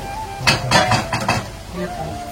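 Spoon scraping and clinking against a pan while stirring tomatoes into a fish curry, several quick close strokes in a short burst, then quieter.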